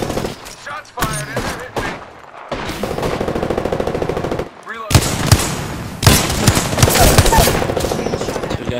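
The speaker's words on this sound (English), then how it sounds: "Shots fired." Gunfire in the video game Apex Legends comes as loud, rapid automatic bursts. Short pauses break them up, and heavier volleys follow near the end.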